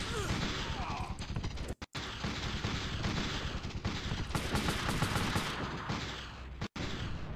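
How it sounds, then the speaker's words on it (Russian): Gunfire in the PS1 war game Army Men: World War, dense continuous bursts of shots and explosions filling the clip, with brief silent gaps. "я могу сейчас прицелиться и выстрелить."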